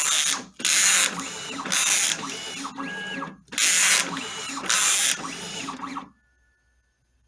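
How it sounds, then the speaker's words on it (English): A GCC Expert II LX vinyl cutter reads register marks with repeated bursts of whirring, ratcheting carriage movement and short pauses, close and loud, before falling silent. "there's the machine reading the register marks"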